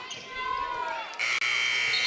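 Final buzzer sounding at a boys' high school basketball game, Tioga Pirates versus Powers Lake/Burke Central, a loud sustained electronic tone cutting in over gym crowd noise and court sounds.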